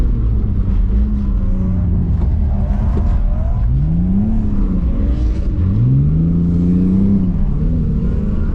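A 2JZ-engined Nissan 240 drift car spins out at a drift event, its engine roaring loud and close with rising and falling revs and swooping pitch sweeps, no talking.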